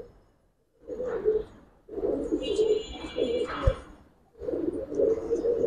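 A Giribaz pigeon with a fully silver neck coos nearby in three distinct throaty bursts with short gaps between them. Faint higher chirps sound in the background.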